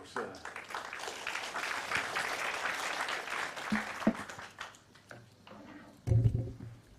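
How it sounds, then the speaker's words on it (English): Warm applause at a university forum on mindful markets welcomes a presenter, a moderate patter of audience clapping that swells and then thins out, with a few voices near the end. "please welcome him with your warm applause"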